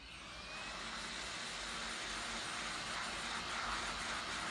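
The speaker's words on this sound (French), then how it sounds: "ensuite on va venir chauffer avec le décapeur" A heat gun blows a steady, loud broadband roar while heating the battery of a Honor 6 phone during a battery replacement, rising slightly and holding constant with no talking.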